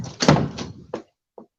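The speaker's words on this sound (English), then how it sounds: "That was old man running out the back door" Door slams as someone bolts out the back door of a saloon: a heavy thud, a quick second bang, then a lone fainter knock after a short pause, close and loud.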